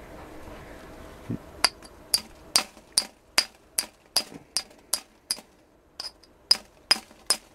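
Glass bottle bottom being pressure-flaked into an arrowhead: a run of about fourteen sharp, bright clicks and ticks, close and fairly regular, over a quiet background.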